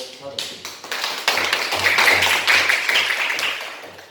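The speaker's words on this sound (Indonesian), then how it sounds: "silakan berikan aplaus untuk kelompok 1" In a classroom, a group of students claps for the first group, a steady patter of hand claps that swells in the middle and carries on for several seconds. Chatter is mixed in.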